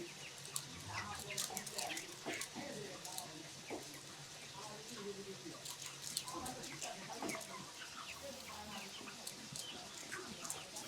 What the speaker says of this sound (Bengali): মুরগিগুলো নিজে থেকে কিন্তু কিভাবে নিপল থেকে পানি খাচ্ছে